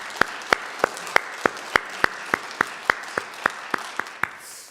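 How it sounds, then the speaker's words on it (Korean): A church congregation at a Thanksgiving Sunday worship service claps together in a steady, even rhythm, about fourteen crisp claps in a row, then stops at the end. "박수를 올려드리겠습니다."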